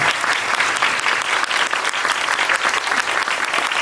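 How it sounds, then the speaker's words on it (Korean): An audience claps continuously at a photo session following a musical performance, a dense and loud wash of steady applause with no voices. "박수 부탁드리겠습니다."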